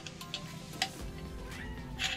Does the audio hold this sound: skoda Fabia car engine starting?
no